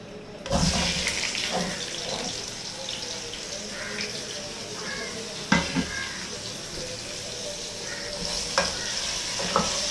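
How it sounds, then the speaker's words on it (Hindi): Potatoes for aloo chaat roasting in a pan, a bright continuous sizzle with occasional scraping stir strokes and clinks, close and fairly loud, no talking. "इसको हम पहले भूनेंगे आलू को।"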